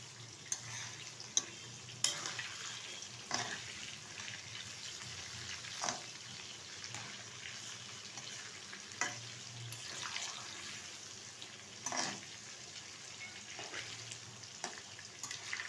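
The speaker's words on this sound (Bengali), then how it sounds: "তো ভালোভাবে উল্টে পাল্টে ধরে নেব পটলগুলো একটু উল্টে দিচ্ছি" Sliced pointed gourd fries in a pan, a faint, steady crackle with occasional louder clatters and scrapes as the pieces are turned over, and no talking.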